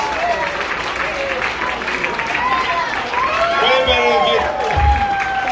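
A crowd at an anniversary gala bursts into applause, with scattered cheers rising over people talking and a few thumps near the end.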